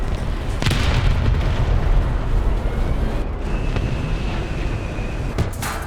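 Cannon fire from a Swedish Strv m/41 S-II light tank in War Thunder, with loud booming blasts, a sharp crack early and another near the end, over a constant roar of battle noise.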